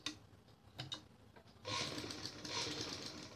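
A sewing machine stitches a salwar, quiet and close, with a few soft ticks before the motor settles into a steady, even run for the last couple of seconds.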